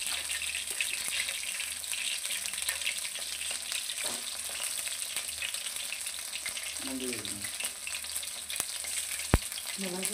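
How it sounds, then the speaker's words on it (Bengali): Pieces of chicken fry in a pan with a steady, close sizzle lasting throughout, with a few clinks of stirring and a brief rush of tap water partway through. "এখন মুরগি ভাজা হচ্ছে।"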